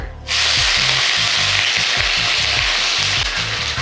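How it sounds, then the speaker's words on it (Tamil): Chopped onion drops into hot ghee with cumin seeds and erupts into a loud, close, continuous sizzle, with low clunks from the pan as it is moved. No one talks. "இப்போ இதில் வெங்காயம் சேர்க்குறேன்."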